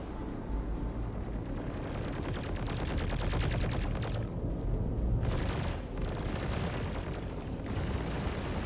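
Video game turrets fire continuous heavy automatic bursts, loud and dense, with rumbling booms and explosions blending into a steady roar over several seconds.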